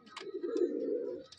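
A breeding pair of pigeons gives a single soft, low coo lasting about a second, with faint chirps just before and after it. The sound is quiet and close, with no talking.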